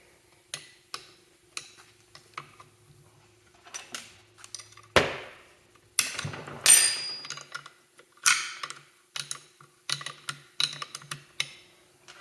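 Two wrenches worked together on a Polaris XLT triple engine build, giving sharp metallic ticks and clicks in irregular bursts, close up, with a few louder clanks and rattles of tools.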